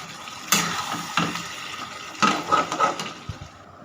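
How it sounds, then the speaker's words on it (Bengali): Water poured into a pan of fish curry, a splashing rush with a few bursts and a brief sizzle, close and fairly loud. "এবার জল দিয়ে দেব"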